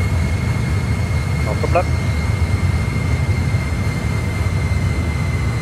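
A Boeing 737 in a flight simulator taxis with a steady, loud low engine rumble and hum throughout, while a voice briefly speaks over the drone.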